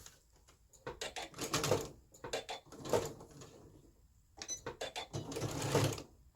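A sewing machine stitches a culottes seam in short bursts of rapid whirring separated by pauses, fairly faint and close, with small clicks and handling noises between runs.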